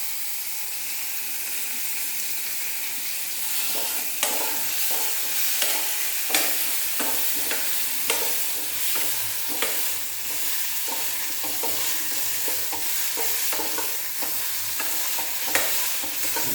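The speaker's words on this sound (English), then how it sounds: "let me see if the oil has become hot" Oil heating in a pan for lemon pickle, a loud continuous sizzle and hiss with frequent small pops and crackles running throughout, no voices.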